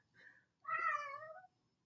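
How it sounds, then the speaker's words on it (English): A pet cat meows twice indoors: a short, softer call, then a longer, louder drawn-out meow, close to the listener, with no talking. "that's my cat meowing."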